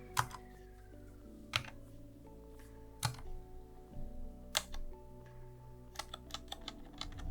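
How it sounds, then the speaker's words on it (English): Typing on a Dygma Raise keyboard with factory-lubed stabilizers, close and fairly quiet, with irregular keystrokes and a few heavier presses on larger keys standing out from the lighter clicks. "You'll now notice less rattle on larger keycaps like Enter and Backspace."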